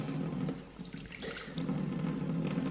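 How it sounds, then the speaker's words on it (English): Tap water runs steadily into a tablespoon for a recipe in a home kitchen, a close hissing stream that pauses briefly and then resumes, with no talking. "We need to put 2 tablespoons of water."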